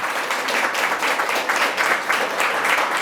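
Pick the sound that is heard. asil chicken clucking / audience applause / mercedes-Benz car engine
audience applause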